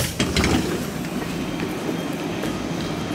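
A German ICE high-speed train pulls into Utrecht Centraal station, a steady rolling rumble with faint rail clicks, heard from inside the carriage and without any talk.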